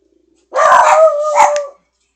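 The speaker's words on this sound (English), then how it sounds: "Sorry, the dogs are acting up again." Dogs bark and howl in a loud, close burst lasting just over a second, a yelping bark followed by a rising howl, then sudden silence.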